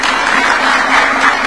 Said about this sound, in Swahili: Tupigeni Deno makofi.